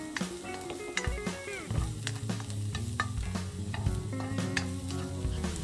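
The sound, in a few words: garlic sautéing in hot oil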